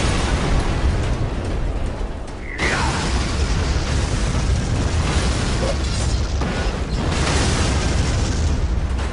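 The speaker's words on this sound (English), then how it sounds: "Oh my god, got enough explosions?" Continuous roaring blasts and rumbling explosions from the video game Prototype 2 fill the scene, loud and dense, with one brief lull partway through and no talk.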